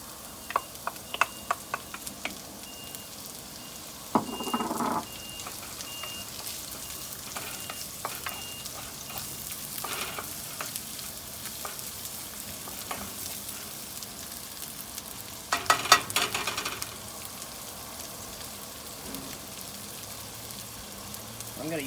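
Rice fries in a pan on a Weber Spirit II E320 gas grill side burner, a soft continuous sizzle broken by scraping stirs of a wooden spoon, with a few louder bursts of stirring.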